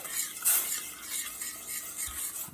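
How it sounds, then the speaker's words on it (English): Brown sugar is stirred into a sake and sesame oil marinade for Japanese cross-cut ribs, giving a soft, continuous scraping swirl in a bowl, quiet and close with one brief brighter clink near the start. "I'm going to stir this just a minute and let this brown sugar dissolve into the sake and sesame oil."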